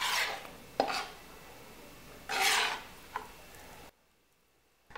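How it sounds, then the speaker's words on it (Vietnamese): Fish slices being mixed into a turmeric marinade in a bowl, with a few wet scraping and rubbing strokes and small clinks of utensil against dish, close and quiet, ending in silence. "Trộn cho cá thấm đều hỗn hợp ướp"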